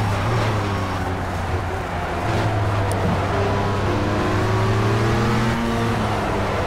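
A race car engine in the Project Cars racing game at Silverstone drones steadily and loudly throughout, its pitch rising and falling through gear changes with no talking over it.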